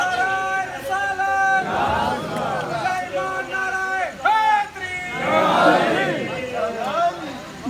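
Large crowd at a Muharram majlis chanting the Haidari slogan in loud, surging waves of massed voices, with shouted calls rising and falling across the gathering.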